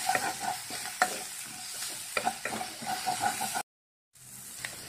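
Onions fry toward golden for fish molee, crisp sizzling with rhythmic stirring scrapes and spoon clicks, then a brief total cut to silence before the frying resumes more quietly.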